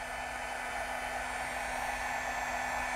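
A heat embossing tool blows hot air to melt embossing powder, giving a steady, close whooshing drone with a faint tonal hum, unbroken throughout with no talking.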